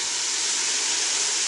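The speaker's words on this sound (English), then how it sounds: "I'm just sauteing the veggies." Onions, garlic and vegetables sautéing in a steamy soup pot, giving a steady, loud broadband hiss and sizzle that runs unbroken with faint low rumbles underneath.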